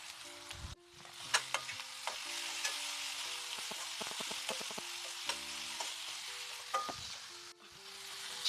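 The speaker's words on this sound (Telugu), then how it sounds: "కారం వేస్తున్నాను." Chili powder sizzles in a pan while cooking a cucumber, egg and chicken curry, a constant close frying hiss with scattered stirring clinks and scrapes throughout, and no speech.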